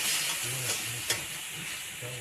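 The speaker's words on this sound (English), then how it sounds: "let's start adding some stock" Stock goes into a hot pan during Thanksgiving dinner cooking, producing a soft, steady sizzle and hiss with a few faint stirring scrapes and a brief clink, all fairly quiet.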